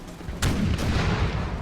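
Artillery cannons fire in the battle game Imperial Splendour, with two sharp booms in quick succession over a continuous rumbling din of battle.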